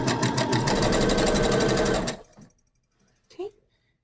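A sewing machine stitches fabric for a face mask in a fast, steady mechanical run for about two seconds, then stops abruptly, followed by brief handling noises and a short voice.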